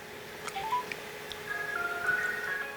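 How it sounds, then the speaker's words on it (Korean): A mobile phone sounds a short series of dialing tones, steady beeps at varying pitches that run one after another over a quiet, faintly hissing room as a man at a meal places a call. "식사를 하다 말고 휴대폰을 꺼내 전화를 거는"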